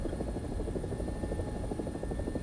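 Rotor of an AB 205 A-1, the Italian UH-1H helicopter, in an arcade-mode video game: a steady, rapid blade thump over a constant engine drone, loud and unbroken, with no talking.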